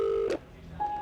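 Telephone keypad tones being dialed: a steady dual-tone beep, a brief noisy click, then another clear tone, close and fairly loud with no talk.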